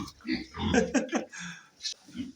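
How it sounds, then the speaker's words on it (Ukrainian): Pigs grunt and snort in short close bursts, a few rapid squeaky calls among low rumbling oinks. "заказала іменно дві більших свинки"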